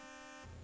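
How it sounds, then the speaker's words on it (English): Electronic car horns beep in the Atari 2600 game Freeway, a short synthetic honk that shifts pitch partway through, faint and brief with no voices. "the beeping cars honking at you"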